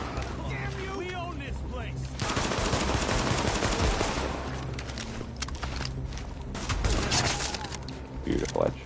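Rapid automatic gunfire in The Division, a PS5 third-person shooter, rattling in a steady stream through most of the stretch, with footsteps and game effects underneath and a voice talking over it.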